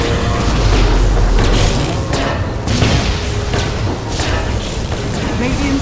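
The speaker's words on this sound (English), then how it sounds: "Radiant's bottom tower has fallen." A tower falling in Dota 2, heard as a dense, loud, booming rumble with crashing thuds that continues without a break, while other game sounds play in the mix.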